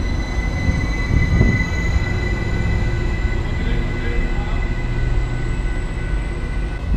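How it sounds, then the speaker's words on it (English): A Metrolink commuter train rolls past close by in a steady, loud rumble of wheels on rail, with faint squealing tones running throughout. "What a interesting train."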